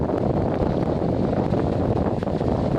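Strong wind buffeting a sailboat off Çeşme, a dense continuous roar pressing on the microphone throughout, loud and close with no voices.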